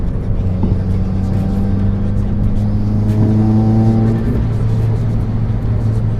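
A 2020 Subaru WRX fitted with a stock Group N transmission mount and Whiteline positive shift kit accelerates hard, its loud engine droning steadily from inside the cabin while the pitch climbs midway, then settles into a sustained hum.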